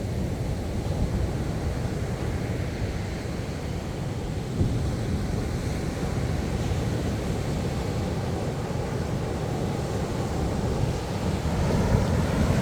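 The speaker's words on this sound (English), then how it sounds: "The water rushes up here and then it goes back down. Back to the ocean. Wow. Wow, look at those waves." Atlantic Ocean surf at a Montauk, New York beach makes a steady, broad rushing wash with wind noise mixed in, continuous and fairly loud.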